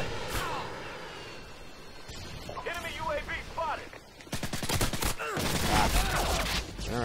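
Gunfire in the video game Modern Warfare 2, on a Sub Base ground war map, with bursts of rapid shots and heavy crackling fire over steady battle noise, while someone talks over it.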